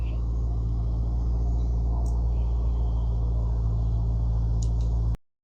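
A Maserati's engine drones in a steady, low, loud rumble from inside the moving car, holding even throughout before cutting off abruptly.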